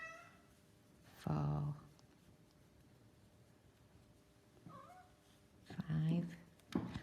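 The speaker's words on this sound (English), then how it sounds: "the cat's coming to have a look to see what I'm doing" A house cat meows near a person crocheting a cross within a square, two short tonal calls a few seconds apart, fairly close, with quiet room noise between them.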